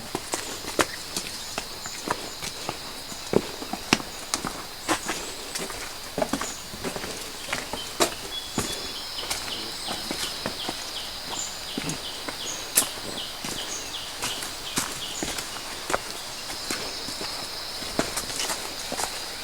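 Footsteps tread steadily down a dirt path toward a stream in a forest, an even series of soft crunching steps over a constant high insect or bird drone, with no talking.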